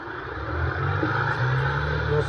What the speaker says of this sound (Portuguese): Freio do motor só faz barulho mesmo